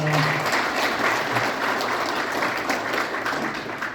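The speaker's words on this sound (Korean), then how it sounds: "뜨거운 반응의 박수를 부탁드립니다." An indoor audience applauds at a launch ceremony for a Busan committee raising funds for a presidential memorial hall. The clapping is dense, continuous and fairly loud for the full four seconds, with faint speech underneath.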